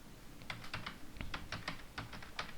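Steady run of computer keyboard typing while HTML form code is written, a dozen or so distinct key clicks at an even pace over a faint background hum, close up and alone.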